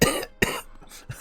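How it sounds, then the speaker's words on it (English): Two sharp, close coughs in quick succession, followed by a smaller third cough. "Cough, cough, cough."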